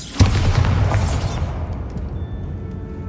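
A Bombarda blasting spell detonates in Hogwarts Legacy with a heavy, close boom that rumbles and then fades into a long, decaying tail.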